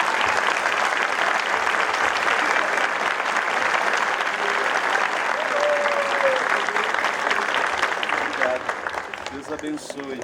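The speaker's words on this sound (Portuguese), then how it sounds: "queremos te agradecer com uma salva de palmas" A church congregation at a Palm Sunday mass applauds warmly, a dense sustained wash of many hands clapping for about eight seconds before thinning out, with a brief voice rising near the end.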